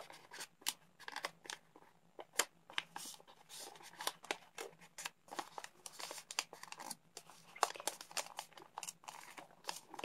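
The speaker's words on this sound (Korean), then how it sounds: "펼쳐서 눌러 접어주세요." Origami paper is opened out and pressed flat while a tropical fish is being folded. The crisp crinkles and rubs come close and quiet in a steady run of short strokes, with no one talking.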